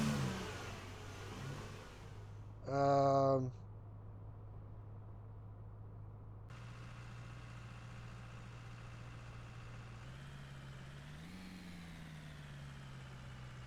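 A pickup truck engine in Snow Plowing Simulator hums at a steady idle, broken early by a short loud electronic beep tone, then shifting pitch and rising slightly as it revs later on.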